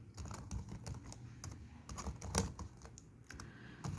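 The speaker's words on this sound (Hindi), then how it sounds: "यहाँ पे हम कुछ भी टाइप कर लेंगे" Rapid typing on a computer keyboard while entering text in Notepad, a dense run of close, crisp key clicks with no pauses and no voices.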